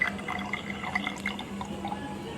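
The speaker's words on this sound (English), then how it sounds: "measure 10 ml water in a measuring cylinder, pour it into the test tube" Ten millilitres of water poured from a measuring cylinder into a glass test tube, a soft trickle with small drips and splashes, quiet and close, with no voices.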